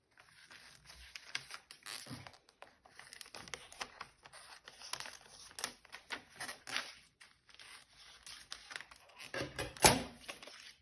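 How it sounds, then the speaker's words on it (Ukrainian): Paper being trimmed along the sides with close, crisp cutting and crinkling sounds that come in irregular bursts, with a louder snip near the end and no talking. "Я трішки обріжу по боках, щоб було зручніше клеїти нам далі."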